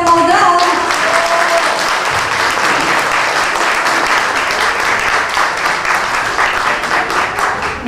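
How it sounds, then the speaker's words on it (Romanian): An audience at a Romanian March 1 celebration show applauds loudly and steadily, a dense wash of many hands clapping that carries on without pause for the whole stretch. "Încă o dată se aplaudă!"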